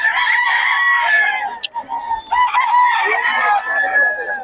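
Gamecocks at a gathering in Bocaue crow loudly and close by, with overlapping drawn-out calls and a few clucks, while people talk briefly in the background.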